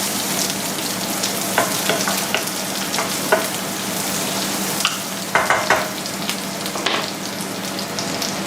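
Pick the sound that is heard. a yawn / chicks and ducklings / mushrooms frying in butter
mushrooms frying in butter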